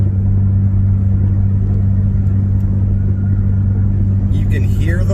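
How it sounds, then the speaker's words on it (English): A 2024 Nissan Frontier with a custom equal-length exhaust and muffler cruises at highway speed around 2,000 RPM, a constant deep rumbling drone heard close from inside the cab, with no break for the whole stretch. "you can hear the muffler,"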